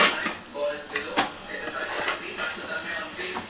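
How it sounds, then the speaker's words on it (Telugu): A lid is set down on a pot of gongura chicken cooking on the stove, giving a couple of brief clinks near the start among soft kitchen clatter, with a voice faintly in the background. "ఇప్పుడు మూత పెట్టుకుందాం ఒక 5 మినిట్స్"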